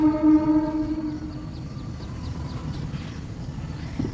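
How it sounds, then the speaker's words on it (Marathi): A passenger train passes nearby, starting with a loud, sustained horn for about a second and a half, then a steady rolling rumble of wheels and cars running on alone. "ट्रेन जात आहे"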